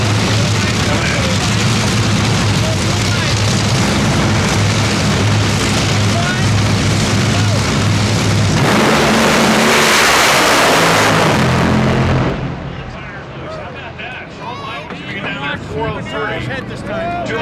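Nitro drag racing cars at the NHRA Winternationals make a loud, sustained roaring run, swelling into a harsh blast before falling off to crowd noise, with an announcer talking throughout.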